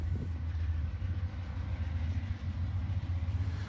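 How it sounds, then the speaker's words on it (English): A CSX freight train led by two freshly rebuilt CM44AC locomotives rolls past at a steady distance, its low rumble and engine drone continuous, with faint rail clatter. "Leading the way were two fresh CSX CM44 AC rebuilds"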